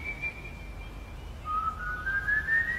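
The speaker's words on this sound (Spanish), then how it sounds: "Es alguien que silba" A person whistles a sustained tone that drops, then rises in a long sliding note, clear and close against faint background hiss.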